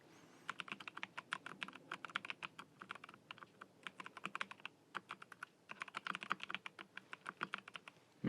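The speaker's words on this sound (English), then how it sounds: "let's get to typing, shall we?" Rapid keystrokes clatter on a computer keyboard in quick bursts with brief pauses, close and crisp, with no voices.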